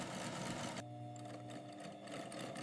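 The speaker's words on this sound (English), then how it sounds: "An industrial sewing machine joins the two upper leather panels, stitching the two lower leather panels," An industrial sewing machine stitches leather football panels with a steady, fast mechanical whir and needle chatter, close and continuous, in a high-tech football factory.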